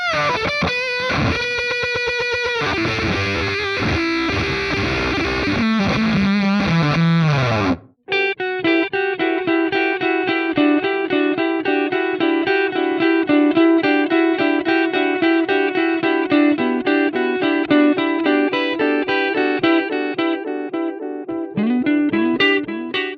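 A distorted electric guitar played through an amp simulator plugin plays heavily processed riffs, shifting to a steady chugging, effect-laden pattern after a short break, loud and upfront.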